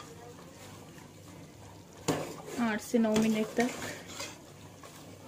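Chicken korma meat and masala sautéing in a pot: utensil clatter and scraping stirs in short bursts over a faint sizzle, with someone speaking Hindi briefly.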